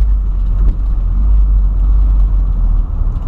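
A Volkswagen Voyage with a still-cold engine drives along, a loud, steady low engine rumble with road noise running throughout and no voices.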